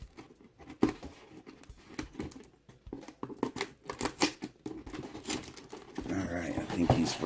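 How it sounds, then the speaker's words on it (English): Scissors snip and plastic crinkles as a Kylo Ren action figure from a Disney Store Star Wars TIE Silencer set is cut loose from its packaging, irregular close-up cuts and rustling with brief talk. "We're gonna cut this guy loose here."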